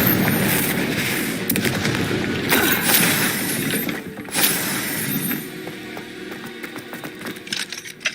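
Spell blasts from the Hogwarts Legacy video game ring out as crackling, shattering bursts over dense, continuous combat noise, with a sharp explosive hit near the middle and smaller bangs trailing off.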